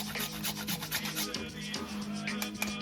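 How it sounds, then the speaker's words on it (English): About a quarter of a whole nutmeg is grated finely for Caribbean-style hot cocoa. Continuous close, dry rasping strokes repeat rapidly and evenly, with no talking. "now we're gonna grate our nutmeg, about 1/4 of a nut. We're gonna grate finely."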